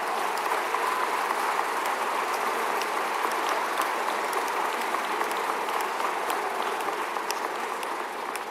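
Dense, steady applause from a large audience at a May 2019 commencement ceremony honoring the class of 2019, with continuous clapping filling the hall at an even level throughout and no speech.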